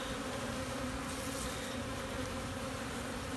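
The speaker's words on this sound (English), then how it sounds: "See how the bees are all spread out and covering the frames and going to work?" Honey bees from a newly installed package swarm over the hive frames, a steady dense buzzing drone that stays close and constant throughout with no voices.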